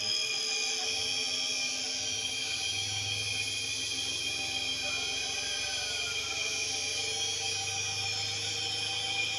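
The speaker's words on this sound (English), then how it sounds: "Now guys, the compressor is turning on." A 1HP LG window-type inverter air conditioner, just repaired after a CH02 error, runs its compressor with a steady droning hum and high whine, constant and fairly close throughout, with no voices.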